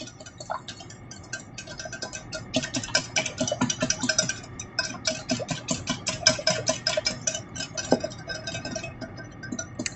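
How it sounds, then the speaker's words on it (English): Rapid, steady clicking and tapping of a whisk against a bowl, mixing ingredients including sugar, continuous and close, with a busy ticking rhythm throughout. "I'm just going to whisk all that together"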